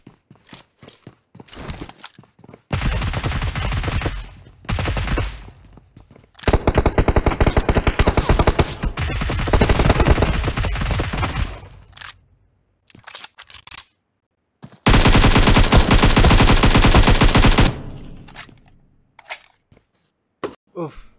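Rapid automatic gunfire in the PUBG Mobile video game, fired as a close-range hip spray, comes in loud sustained bursts separated by short pauses and quieter stretches.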